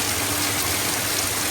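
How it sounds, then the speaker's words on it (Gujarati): A dense, steady wash of heavy rain roars close by, continuous and loud for a short stretch with no gaps or voices. "આનું નામ વરસાદ કહેવાય."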